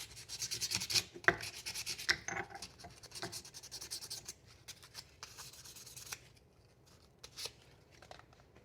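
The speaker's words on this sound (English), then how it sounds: "I just want to get these areas, because these areas, especially these inside areas, are going to get harder to sand and smooth" Inside areas of a handmade jaw harp being hand-sanded smooth: close, soft rasping strokes in uneven bursts, louder at first and then tapering to lighter, sparser rubs with brief pauses.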